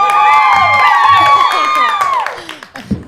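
Cheering and applause for an announcement during a 200th-episode livestream: loud whoops with rising and falling pitch over clapping, fading out toward the end.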